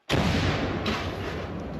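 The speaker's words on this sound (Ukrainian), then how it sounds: "Гармата!" A single heavy artillery cannon blast goes off suddenly, followed by a long rumbling roar that slowly fades.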